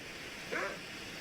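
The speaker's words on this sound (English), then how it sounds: "Why do you just bark like a dog?" A wolf in The Long Dark survival game gives a single short doglike bark, fairly faint and distant over a steady windy background hiss.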